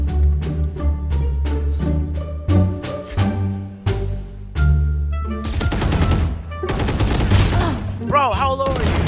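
Gunfire from the shooter game Valorant: a run of separate single shots, then dense rapid automatic bursts, loud and close.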